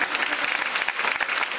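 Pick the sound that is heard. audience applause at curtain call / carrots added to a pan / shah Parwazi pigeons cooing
audience applause at curtain call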